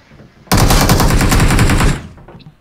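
A loud, sustained burst of automatic gunfire from PUBG Mobile rattles continuously for about a second and a half, then cuts off, leaving faint background noise.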